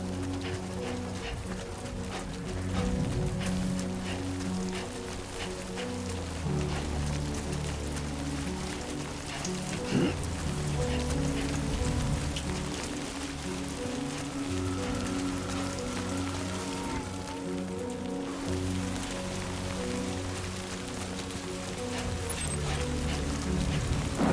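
Steady rain in the video game Death Stranding 2 patters continuously on surfaces, a dense hiss with droplet detail running the full length alongside a low ambient game drone and faint rumble.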